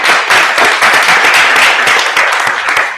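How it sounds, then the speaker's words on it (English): A small meetup audience breaks into loud, steady applause, dense overlapping claps filling the room without pause for a few seconds. "Yeah, round of applause."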